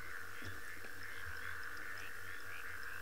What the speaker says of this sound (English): it's quite marshy, and you can hear a lot of frogs and toads calling